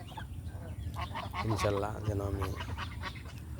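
Domestic geese from a farm flock of about 30 to 35 birds let out a short run of nasal honks close by, while someone talks over them.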